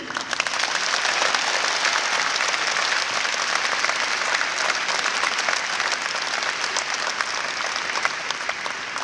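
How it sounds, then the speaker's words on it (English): Graduation ceremony audience applauding families, a dense, steady wash of clapping from many hands that runs evenly throughout with no talk on top. "So graduates, give a big round of applause to your family for everything that they've done for you."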